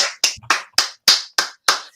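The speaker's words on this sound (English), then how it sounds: "So another round of applause," Sharp, evenly spaced claps, about seven in two seconds, close and loud with silence between them, like a single pair of hands rather than a crowd.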